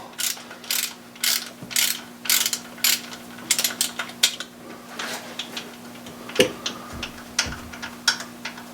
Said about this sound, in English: I've got one more bolt to take out here in the middle